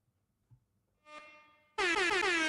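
After a quiet start and a brief tonal rise, a blaring air horn blast kicks in loud and sustained, harsh and buzzy, cut off at the end.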